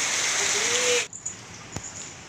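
Steady broadband rain hiss that cuts off abruptly about halfway, leaving a quieter patter with a few distinct drips or taps.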